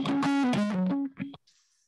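A guitar loop run through a diode clipper distortion circuit, modeled with wave digital filters: a short, buzzy distorted phrase of sustained, shifting notes that cuts off abruptly and leaves a faint hiss.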